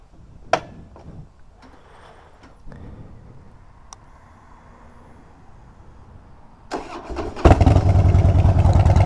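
A car engine cranks and catches near the end, settling into a loud, steady rumble after a few seconds of quiet clatter and handling noises.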